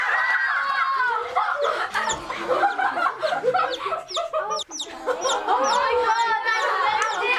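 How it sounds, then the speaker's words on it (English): Pet chicken perched on a person's shoulder clucks and chatters close up in a nearly continuous run of bright, bubbling calls for several seconds, with brief breaks and bursts of higher squawking. "I have a chicken on my shoulder."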